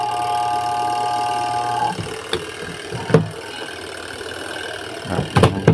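A Haier washing machine spin-dry motor hums with a steady tone that cuts off about two seconds in, followed by scattered knocks and rattles from the machine.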